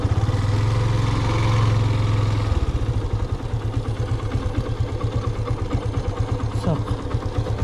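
A motorcycle engine idles nearby with a steady low putter that settles into a rhythmic chugging pulse, with a voice heard over it.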